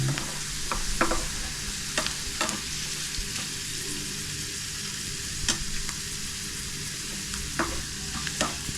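Curry leaves and onion fry in hot oil for a dal tempering, a constant close hiss broken by sharp scraping clicks of a stirring spoon at uneven intervals, with no voices.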